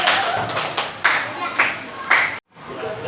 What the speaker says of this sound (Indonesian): beri aplaus yang meriah